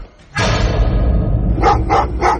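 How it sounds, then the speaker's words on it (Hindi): A dog in a graveyard gives three quick, evenly spaced barks at a moderate distance, following a sudden loud, sustained rumble that sets a dark background. "कि वो कुत्ता रॉबर्ट को नहीं, बेन की कब्र को लगातार देखता हुआ भौंक रहा था"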